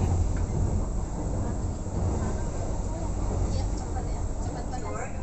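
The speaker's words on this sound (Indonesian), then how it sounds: "Inilah situasi kereta api ekonomi Majapahit menuju stasiun Malang." A steady, rumbling rattle fills the inside of the moving Majapahit economy-class passenger train bound for Malang, Indonesia, with murmuring voices faintly beneath the constant ride noise.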